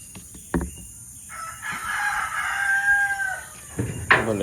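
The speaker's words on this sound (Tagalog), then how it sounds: "Dito yung may sakit nating manok." Chickens sick with coryza crow and cluck close by, a long drawn-out crow sliding through the middle with sharper clucks at the start and end, no talking over it.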